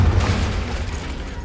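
A Confringo spell explosion in the Hogwarts Legacy video game, a loud deep booming rumble that decays over a second and a half.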